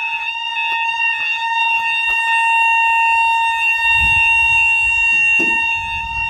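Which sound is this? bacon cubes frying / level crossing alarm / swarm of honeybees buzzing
level crossing alarm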